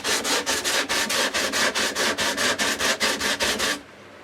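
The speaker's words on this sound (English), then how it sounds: "gone to hand sanding this bit" Sandpaper rubs back and forth by hand on a wooden guitar body in a quick, even rhythm, about twenty strokes close up, then stops.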